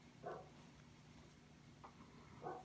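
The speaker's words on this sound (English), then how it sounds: "My dogs are outside barking." Dogs bark outdoors at a distance, a few faint, muffled barks spaced out over a low background hum.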